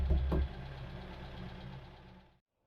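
A Trekka, New Zealand's only production car, runs with a steady low engine rumble that begins with a louder burst, then settles into an even idle before cutting off abruptly.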